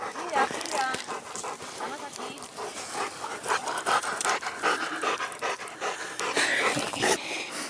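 A dog panting rapidly and steadily close by after drinking from water troughs outdoors, quick rhythmic breaths that continue throughout with small whimpers mixed in.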